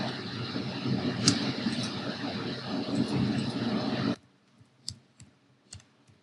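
Keystrokes clicking on a computer keyboard as a search keyword is typed, a steady clatter that cuts off abruptly, followed by a few isolated clicks in near silence.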